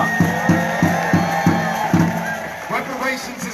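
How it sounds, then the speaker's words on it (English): A crowd at an outdoor civil rights rally cheers and claps in rhythmic bursts under loud, echoing public-address speech, with whoops rising toward the end. "Give yourselves a big round of applause for showing up."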